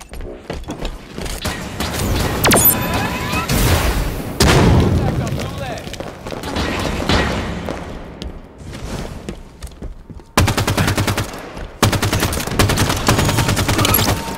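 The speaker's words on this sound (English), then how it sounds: "Rocket launcher ready." Rocket launcher shots and explosions in the shooter Halo 5, a series of loud booming blasts and rapid gunfire in dense combat, with an in-game voice speaking between them.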